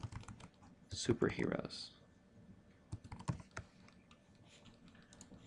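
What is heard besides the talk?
typing text on a computer keyboard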